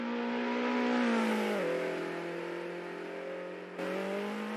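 Race car exiting the pits in the Assetto Corsa racing game, its engine a steady, tonal whine that drops in pitch at a shift, then jumps up again, alone and moderately loud.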